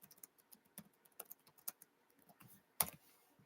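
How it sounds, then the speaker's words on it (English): Quick, irregular typing on a computer keyboard while searching a comic book listing: soft close key clicks scattered across the span, with one louder keystroke near the end and no talk. "Let's type that in."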